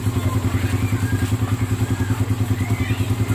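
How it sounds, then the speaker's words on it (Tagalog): A Suzuki Raider 150 motorcycle engine idles after a remote start from a two-way alarm, a loud, close, steady pulsing putter with a mechanical clatter throughout. "engine start."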